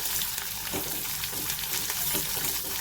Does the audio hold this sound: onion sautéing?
yes